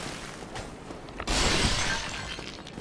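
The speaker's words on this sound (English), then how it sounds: "I like smashing the pots" Clay pots smashed in the video game Dark Souls: a sharp, bright shattering crash about halfway through, after quieter scuffing and footstep-like knocks, then fading debris.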